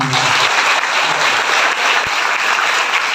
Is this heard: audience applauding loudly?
yes